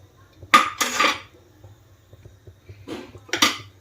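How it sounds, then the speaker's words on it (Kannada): A metal lid clanks down onto a pot of simmering snake gourd sambar in a short clatter, then a pause, and a second rattling clank follows, over a low steady hum. "ಲಿಡ್ಡನ್ನು ಕ್ಲೋಸ್ ಮಾಡಿ ಕುದಿಸ್ತಾ ಇದ್ದೀನಿ"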